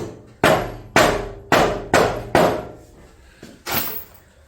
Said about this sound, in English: A little rubber mallet action right through the front hole